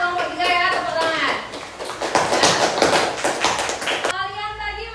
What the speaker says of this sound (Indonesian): Selamat kelompok 3 ya, tepuk tangan.